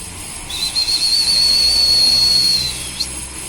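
A single loud, shrill whistle blast, used to call racing pigeons, holds steadily for about two seconds, followed by a brief short chirp, over faint background noise.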